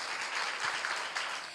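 A studio audience at a live talk show applauds with a steady wash of clapping that holds evenly throughout and stays moderately close.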